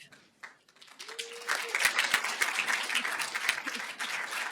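Applause at a Human Relations Commission awards ceremony: after a quiet start with brief voices, a crowd breaks into sustained clapping that holds steady, with a few sharp louder claps standing out.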